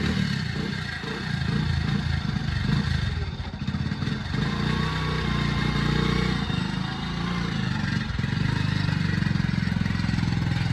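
Steady motorcycle engine drone while riding through banana farm fields, a continuous close hum with rattling and wind noise and only slight shifts in pitch, with no voices over it.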